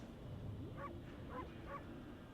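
A white wolf in the video game Okami gives three short, evenly spaced barks, quiet and clear over a low game background.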